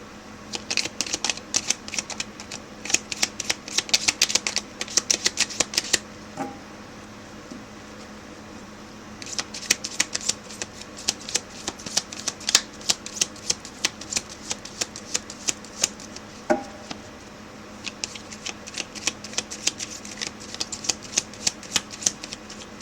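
Tarot cards are shuffled in rapid bursts of dense riffling, a long stretch followed by a pause and then more shuffling, close and continuous over a faint background hum.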